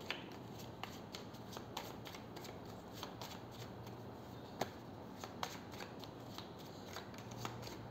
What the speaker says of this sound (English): I don't know why I'm shuffling like it's supposed to be for reversals